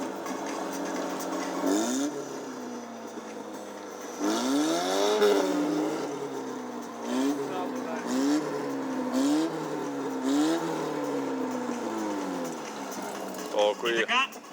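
Cars rev and race around an auto rodeo course at Italfest 2013, engines rising and falling in repeated swooping pulls and throttle bursts under an ongoing commentator's voice.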